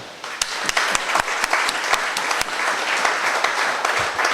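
An audience at a security guard company's quarterly award ceremony breaks into applause, sharp close claps punching through a dense, full round of clapping that holds steady throughout.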